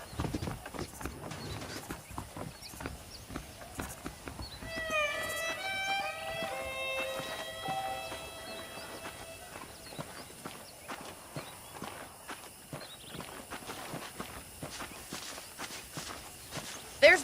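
Saddled horses walk along in the Red Dead Redemption video game, a steady clip-clop of hooves under faint ambient noise, with a brief musical melody rising midway.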